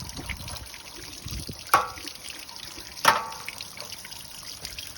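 Water trickles and drips steadily from a camper's hot water heater as it drains, with a couple of louder splashing spurts standing out against the faint flow.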